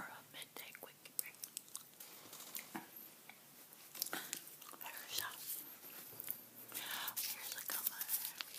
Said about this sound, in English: Here's a gum I'm chewing today, by the way. Wrigley's Double Mint chewing gum.